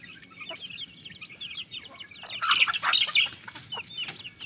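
Hens and chicks let out of their coop after feeding cluck softly, with high chick peeps that grow busier and louder midway, nearby with no talk.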